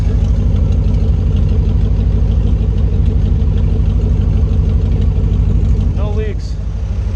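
A 1985 C4 Corvette running on open headers, a loud, steady low rumble with a rapid pulsing exhaust beat throughout, ending with a brief squeak near the end.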